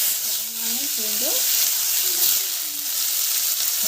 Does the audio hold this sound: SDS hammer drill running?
no